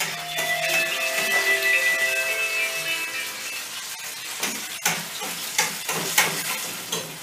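Tomato pieces for menemen cook in a pan over a gas stove, a steady sizzle and fry with a few sharper clinks and stirs near the end, close and fairly loud with no talk.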